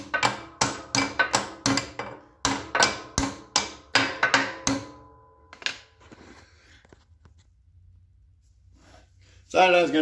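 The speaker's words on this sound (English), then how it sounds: "need a hammer" Repeated sharp hammer blows in quick bursts on a KLR 650 motorcycle's rear shock, close and loud, followed by quieter clanking and a brief burst of speech at the end.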